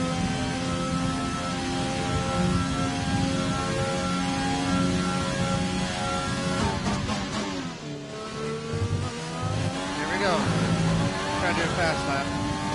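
Formula 1 race car engine in the F1 2020 video game at the Canada circuit: a loud, high-pitched engine whine rises and falls through gear changes and deceleration, sustained throughout with speech over it.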